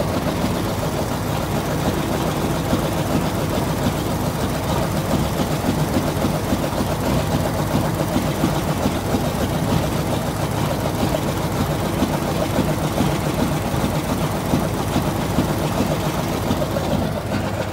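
A 1937 Ford car engine that sat unused for a year, with idle screws turned well in, idles in a steady, loud, even mechanical run that lasts the whole stretch without a pause.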